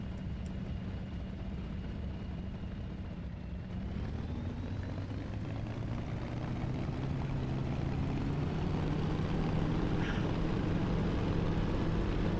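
Propeller airplane engine held at high RPM during a takeoff roll on a runway, a steady droning hum whose pitch slowly rises as the aircraft gathers speed, loud and continuous with no talk.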